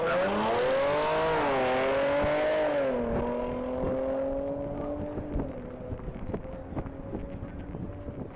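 A Jaguar R Sport car on a top-speed mile run at a racing event makes a loud engine roar that sweeps up through the gears, then fades with wind noise, and a voice speaks briefly over it.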